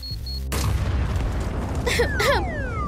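Bomb exploding in a Poppy Playtime cartoon: a quiet hum gives way to a sudden loud boom and a rumbling roar, while a couple of short whistling, sliding tones sound through the rumble.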